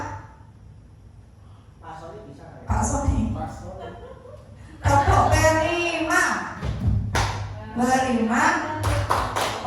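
A group of people claps a rhythmic chant pattern, sharp clustered claps in steady beats, under and alongside a speaking voice and group chatter in a school setting.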